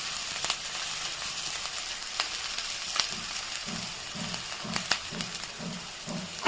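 Chopped green chilli sizzles steadily in hot oil as it is stirred and fried for a paneer samosa filling, with soft spoon scrapes and pops over a constant hiss, close up and alone.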